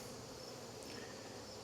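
Honey bees buzz steadily and densely during a hive inspection, a close, continuous hum with no voices over it.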